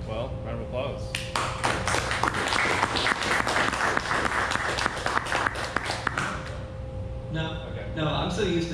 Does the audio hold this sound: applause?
yes